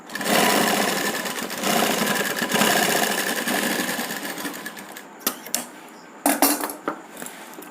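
A sewing machine stitches the neck strip of a kurti in a continuous close, loud whirring run, then slows into a few short stop-and-start bursts.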